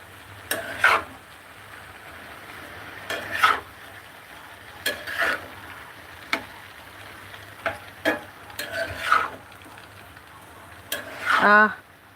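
A vegetable fry in pure mustard oil stirred in a pan, a low steady sizzle broken by repeated scraping strokes of a spatula against the pan at irregular intervals.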